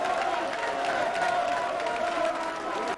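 Frenzied applause and cheering from presidential party members greeting officials at a federal meeting in Kisantu, Congo Central, a dense continuous crowd roar with clapping and voices sustained loudly throughout.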